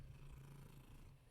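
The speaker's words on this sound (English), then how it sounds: "I don't know if you guys can hear him purring" A big, fat house cat purrs softly and steadily as a low, continuous rumble, close but very faint, with no voices.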